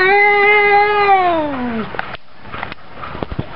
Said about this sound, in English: Have you ever known a cat make so much bloody noise?